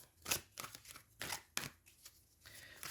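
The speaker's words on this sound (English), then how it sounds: "It's making me shuffle for you" Tarot cards are shuffled close by in a few quiet, uneven riffles and slaps over a few seconds, with no talking.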